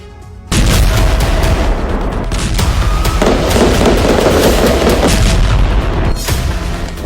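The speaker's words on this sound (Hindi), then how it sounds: "ताबड़तोड़ गोलीबारी, चुन चुनकर हमास के समर्थकों पर हमला।" Heavy gunfire during an armed raid in the West Bank is heard as a dense, loud, continuous barrage of cracks and booms that begins abruptly and runs without pause.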